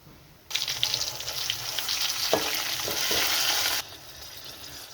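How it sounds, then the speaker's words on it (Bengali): Loud sizzling of duck meat frying in a pan as ginger and garlic paste is stirred in, a burst of hissing that starts sharply, carries a few stirring clinks, then drops away near the end. "আদা বাটা দিয়ে দিলাম, প্রথমে রসুন বাটা দিয়েছি, এখন আদা বাটাটা দিয়ে দিলাম।"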